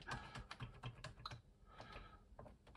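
Random keys typed on a Soviet Byte computer keyboard give a close, steady run of irregular mechanical clicks and clacks, with a brief lull partway through.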